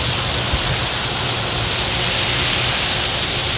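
A steady, loud rush of water pours into and saturates a garden planting hole prepared for a rose transplant in central Florida, an even, unbroken hiss throughout.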